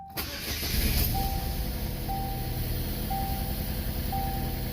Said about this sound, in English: Still misfiring.